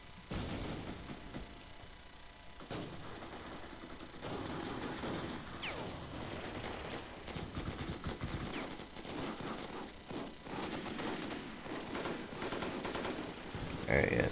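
Rapid bursts of gunfire from the video game War Inc Battlezone rattle on almost continuously and fairly loud, with a voice talking underneath at times.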